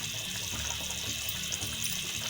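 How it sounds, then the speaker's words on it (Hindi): Water boiling in a cooking pot while making chicken and vegetable pulao, a steady close bubbling and rushing wash that runs continuously without any talk. "पानी उबाल आ गया"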